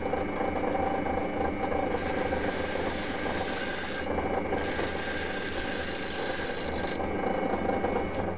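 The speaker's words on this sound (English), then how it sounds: "So I just line the end of this gouge up with that bump, get the lathe going." A wood lathe runs with a steady whir as a gouge cuts the spinning workpiece, the tool scraping in two close, sustained bursts of harsh rasping with no voices.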